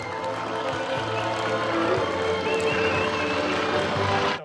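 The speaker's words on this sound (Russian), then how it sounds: "Громкие аплодисменты, дорогие друзья" Loud, sustained applause and cheering from a crowd at an outdoor bard song festival with campfire and guitars, a dense steady roar of many hands lasting several seconds.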